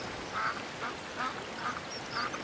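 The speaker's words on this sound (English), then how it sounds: "Sail past of some mallards there, look" Male mallard ducks quack four times at an even pace, moderately loud, over a soft background hiss.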